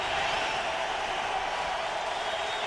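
Football stadium fans at a 2008 Jets at Dolphins game, a broad, steady roar of distant crowd cheering that holds level throughout with no clear individual voices.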